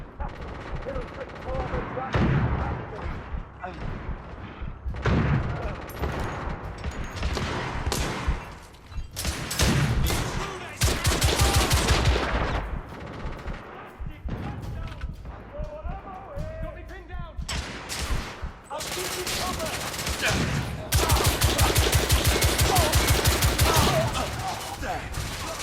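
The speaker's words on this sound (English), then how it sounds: "Try to spam me with that shotgun." Shotgun blasts and other gunfire in the Victorian-era shooter The Order: 1886, loud repeated booming shots layered with battle noise and someone talking over much of the action.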